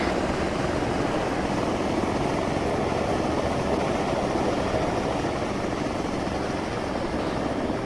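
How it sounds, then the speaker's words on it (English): A helicopter comes in to land close by in the video game Arma 3, its steady, loud rotor roar and engine wash filling the whole stretch without pause. "Yeah, 1-1's coming in, so that helicopter's about to land on your head."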